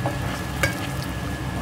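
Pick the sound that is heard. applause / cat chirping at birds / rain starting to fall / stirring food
stirring food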